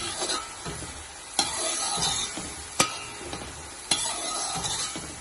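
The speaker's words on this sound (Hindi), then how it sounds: "अब अच्छी तरह से हम मसाले को अच्छी तरह से भूनेंगे" Steady sizzling from a hot pan while a spoon scrapes and stirs a thick spice paste, with sharp clacks every second or so, no talking.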